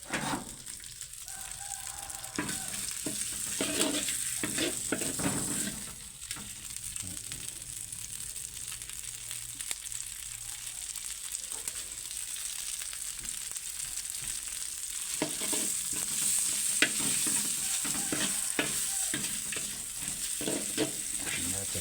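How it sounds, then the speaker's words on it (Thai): Steady sizzling and scraping as roasted chili paste is stir-fried in a hot wok for a Thai basil stir-fry, with repeated utensil clacks and rustling throughout, close and continuous without talk. "ผัดน้ำพริกเผา"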